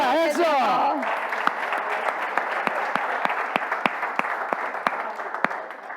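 Congregation applauding during a bilingual church service, scattered claps under a brief opening voice, then a loose run of separate, distinct hand claps at irregular intervals fading toward the end.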